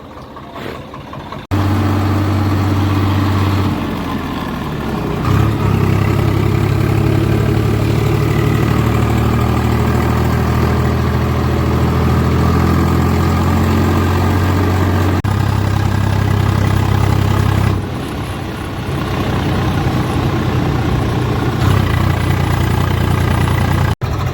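A small tractor engine idles loudly and steadily nearby, a low rumbling drone that briefly dips and then resumes.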